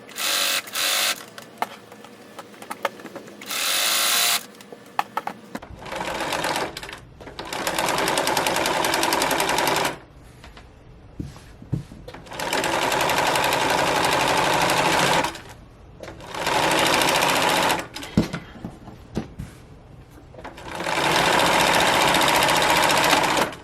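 Sewing machine stitching a gathered ruffled skirt for a slipper chair slipcover, running in several loud rapid bursts separated by pauses filled with quiet handling noises.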